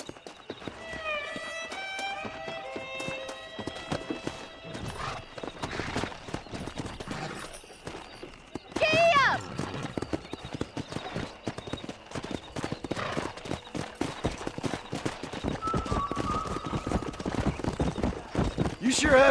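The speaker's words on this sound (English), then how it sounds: "let's see if we can't wrangle some horses" Horses in the Red Dead Redemption video game give off repeated hoof clip-clop and a whinny, set among game music and voices talking, with a louder burst near the middle.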